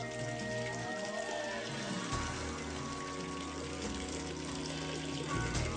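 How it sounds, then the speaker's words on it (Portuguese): Water runs along an underground aqueduct channel and pipeline leading to a castle, a steady rushing trickle with dripping splashes, continuous and close throughout. "A água corre por 1 quilômetro ao longo dessa tubulação até chegar ao castelo."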